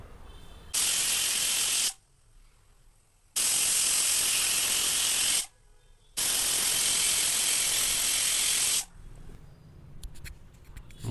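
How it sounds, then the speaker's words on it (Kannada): A pressure cooker cooking egg biryani lets out three long, loud hissing whistles in a row, with short quieter gaps between them, close by and with no voices. "ವಿಷಲ್ ಆಗಿದೆ."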